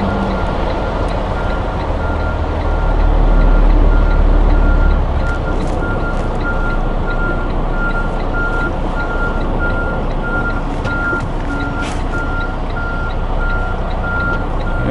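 A semi truck reverses toward a trailer for coupling, with steady reversing beeps pulsing over a loud, constant diesel engine rumble.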